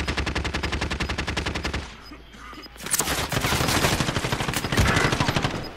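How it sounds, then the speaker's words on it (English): Rapid automatic gunfire in a shooter video game, a loud sustained burst of evenly spaced shots, a brief lull, then dense overlapping fire with sharp cracks from several weapons, no talking. "That's shooting at me."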